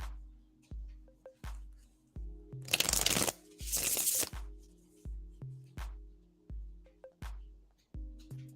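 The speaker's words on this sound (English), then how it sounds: "Shuffling for your second question, Carrie." Tarot cards being shuffled by hand: a series of short, close riffling bursts at a steady rhythm, with two longer, louder shuffles near the middle, over a faint low hum and no talking.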